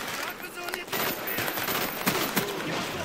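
Gunfire from the Call of Duty Black Ops gun game mode, with dense rapid shots crackling across a busy match. Several sharper bursts stand out near the end.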